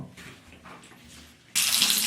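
Shower water starts running for washing a cat, a sudden loud, steady hiss of spray bursting on after a quiet stretch of soft room sounds.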